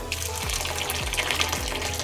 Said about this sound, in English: Add your hot water